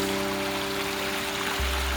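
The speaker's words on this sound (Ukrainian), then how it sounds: "Кожного дня ми проходили повз цю річку, східничанку." The narrow Skhidnychanka river in Skhidnytsia, western Ukraine, flows steadily over stone steps, a continuous close rushing wash with a low steady hum underneath.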